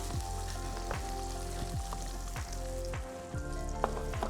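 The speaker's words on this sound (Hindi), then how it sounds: "जब तक हमारा बटर गर्म हो रहा है" Unsalted butter heating in a pan while preparing chilli paneer, a steady close sizzle and fry crackle with a few faint clinks, no voices.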